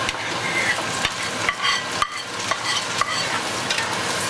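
Fried fish with onions and tomato being stirred in a hot pan over high heat, a steady loud sizzle with a spoon scraping and clacking at roughly half-second intervals, no voices.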